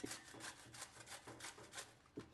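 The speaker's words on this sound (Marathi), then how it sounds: "आता एक प्लेट घेते आणि प्लेट मध्ये गोबी खिसून घेते अगोदर" Cauliflower being grated on a hand grater onto a plate in a home kitchen, heard as a quick series of soft, rhythmic rasping strokes, close and fairly faint, with no talk.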